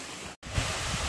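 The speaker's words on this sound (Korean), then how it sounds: "여궁폭포에 도착을 했습니다. 아, 여기 여궁폭포입니다." Yeogung waterfall in the mountains, running with plenty of water, gives a steady, close, full rushing roar, broken by one split-second dropout.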